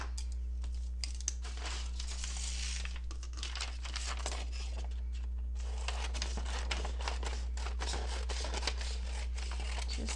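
A paper sewing pattern for a sewing roll is cut out by hand, close crinkling, rustling and crisp snipping in irregular bursts over a steady low hum, with a brief lull midway.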